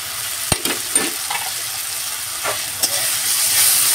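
Ground spices sizzle in a pan of fried ginger-garlic masala paste for a mandeli fish curry in mustard gravy. A steady, close hiss runs throughout, broken by a few sharp spatula clicks and scrapes, with no talking.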